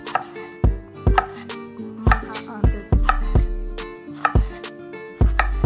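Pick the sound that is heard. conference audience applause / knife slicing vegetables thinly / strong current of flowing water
knife slicing vegetables thinly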